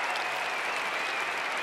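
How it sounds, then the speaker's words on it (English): A Russian crowd at a figure skating ice dance event cheers and applauds continuously, a loud, dense wash of clapping with a sustained shouted cheer running through it. "You hear the Russian crowd"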